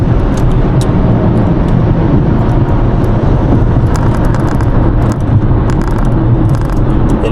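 A Nissan Kicks driving on the road at 4:30 AM, with a steady loud interior engine and tire rumble that stays constant throughout, plus a few faint clicks and ticks.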